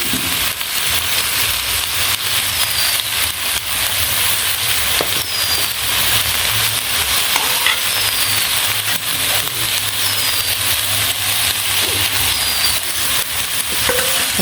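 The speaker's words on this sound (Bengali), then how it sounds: "সামান্য একটু জল দিয়ে ভালো করে কষানো।" Chicken curry sizzles and fries steadily in a pan with turmeric, chili and salt, with faint scraping of stirring, a continuous close crackling hiss throughout.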